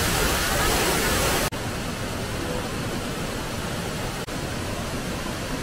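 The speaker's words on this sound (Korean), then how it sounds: "수왕롱 폭포입니다." Shuiwanglong waterfall at Xiaoqikong in Guizhou, China, a roaring broadband rush of falling water, loud and steady throughout, with two brief cuts in the flow.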